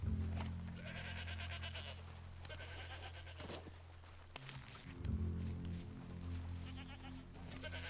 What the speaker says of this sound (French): Il y a un enclos avec pas mal de chèvres, tuez-en une pour récupérer sur celle-ci un gigot.